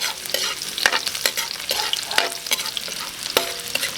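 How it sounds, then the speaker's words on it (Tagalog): Garlic sautéing in hot oil in a pan for lomo saltado, a steady crackling sizzle broken by sharp scraping stirs and clinks, close and fairly loud, with no voices. "Start ulit tayo sa pagigisa."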